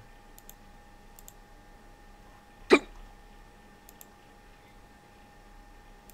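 A single sharp hiccup bursts out abruptly midway through an otherwise quiet stretch, with a few faint clicks scattered around it.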